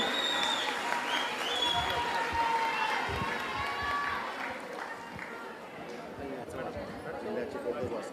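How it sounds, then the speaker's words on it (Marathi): An audience at a BJP Rakhi ceremony in Mumbai claps in a sustained crowd burst that thins slightly midway and picks back up, with some chatter and a voice mixed in. "जास्तीत जास्त टाळ्या त्यांच्यासाठी"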